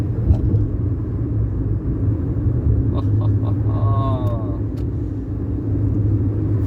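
A classic car drives along with a steady low road rumble and engine drone throughout, a few faint high chirps briefly riding over the noise midway.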